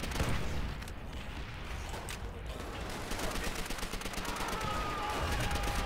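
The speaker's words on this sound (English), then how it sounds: "Oh, that's a grenade." A grenade goes off amid gunfire in Call of Duty: World at War, a steady, loud wall of battle noise with rapid shots crackling throughout and no real pauses.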